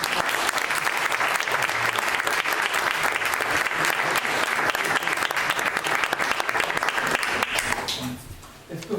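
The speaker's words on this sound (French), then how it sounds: "Je vous demande d'applaudir chaleureusement Olivier Trasini." A large audience at a French-language lecture event bursts into steady, dense applause that fills nearly the whole stretch at an even loudness, then thins and fades out near the end.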